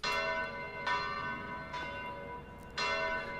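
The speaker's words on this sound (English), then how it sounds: "on the first one here, I've got a recording of bells" Bells ringing in a repeated pattern, with three or four strong strikes spaced about a second apart. Each strike blooms into a bright, sustained metallic ring that carries into the next one, close and fairly loud, with no voices.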